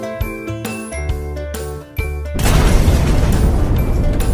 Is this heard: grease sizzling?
no